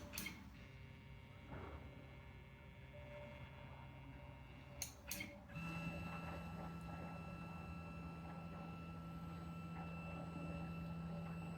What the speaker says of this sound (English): the first thing I'm going to do is send my machine to home with the home all